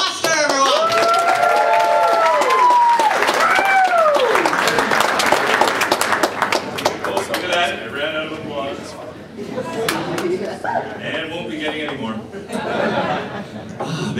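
A comedy-club audience gives a comedian a loud welcome: dense clapping and cheers that thin out into scattered claps and chuckles while he begins talking over them.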